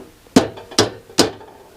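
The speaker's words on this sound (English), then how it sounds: "with my tiny little hammer" Three sharp, evenly spaced taps from a tiny hammer during a Tilley FL6 lamp restoration, close and crisp with short ringing decays and no talk.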